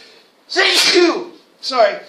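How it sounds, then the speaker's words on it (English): A single loud sneeze bursts out near the microphone in the middle of a spoken lecture on American history, with a short vocal sound following a moment later. "Nothing like sneezing in the middle of one of America's great speeches."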